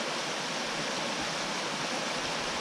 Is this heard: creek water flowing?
yes